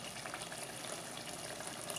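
A steady, faint watery rush as half a glass of water is poured into a pan of mutton saoji gravy, continuous and even throughout with no speech.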